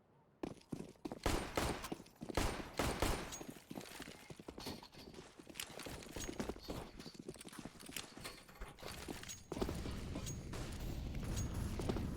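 Rapid bursts of gunfire in Counter-Strike on the Nuke map, a busy stretch of clattering shots and mechanical clicks, with a denser rushing layer near the end, faint talk in the background.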